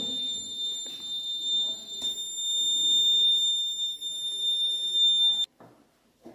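A water tank level alarm project's buzzer sounds a steady, piercing electronic tone for about five seconds and then cuts off, leaving faint room noise.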